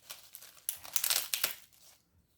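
Paper packaging crinkles and crackles as it is handled, a few close, bright bursts of rustling over about two seconds before falling quiet.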